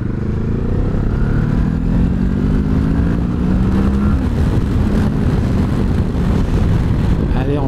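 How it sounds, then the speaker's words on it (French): A new motorcycle, not yet broken in, ridden along a road, its engine droning steadily and loud throughout with shifting pitch as it pulls, wind noise mixed in and faint speech underneath. "C'est une moto agréable."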